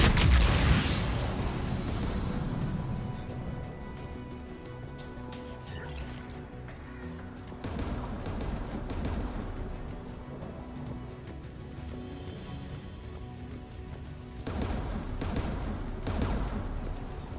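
Anti-aircraft guns fire in Mass Effect 3 during an assault on a Geth dreadnought, with sustained distant volleys rumbling under a dense wash of ambient game noise.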